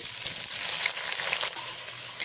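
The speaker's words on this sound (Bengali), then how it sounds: "পেঁয়াজগুলো তো আমি এবারে একটু লালচে করে ভেজে নেব" Onions fry in hot oil with a steady, dense sizzle, a continuous crackling hiss close by with no voices.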